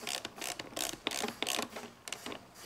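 Mechanical ratcheting and clicking as airbag clip screws on a Pontiac Grand Am steering wheel are tightened down, a close series of short bursts without talk.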